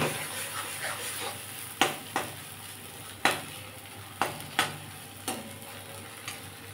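Water spinach paste is stir-fried in a pan with a spatula, giving a low, steady sizzle broken by sharp scraping strokes that come about once a second, close to the listener, with no talking.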